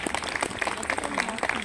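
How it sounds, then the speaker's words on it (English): A festival audience applauding at an outdoor arts festival street show, with brief, dense, close clapping filling the whole moment. "Please give him a huge round of applause."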